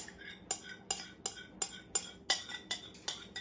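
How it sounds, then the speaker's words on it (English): Utensil tapping and scraping around a bowl as water is stirred into milk for homemade white bread dough, a steady rhythm of about eight clinking strokes, close and fairly quiet with no talk. "Get that stirred up real good"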